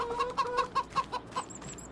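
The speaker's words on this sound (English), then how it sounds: "go visit our chickens" Chickens in the Farming Simulator 25 farm game clucking in a quick series of about eight short, evenly spaced clucks, fairly close and alone, followed by a couple of higher chirps.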